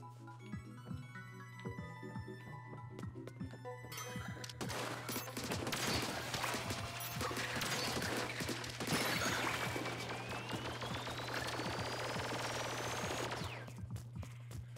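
Sniper shots in Splatoon 2's Octo Expansion ring out as rapid gunfire-like bursts, loud and dense over constant game music and effects, with a rising synth sweep late on.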